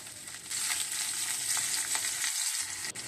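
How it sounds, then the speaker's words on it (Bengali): Chopped garlic and onion fry lightly in oil for a Bengali fish curry, producing a steady hissing sizzle close up with soft stirring and a faint tap near the end. "রসুন আর পেঁয়াজটা হালকা করে ভেজে নিচ্ছি।"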